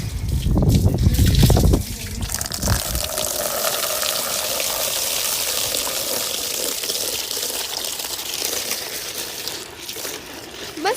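Water poured over a car being washed with shampoo, first a loud close splash and gush onto the body, then a softer steady running trickle as it drains off the surface.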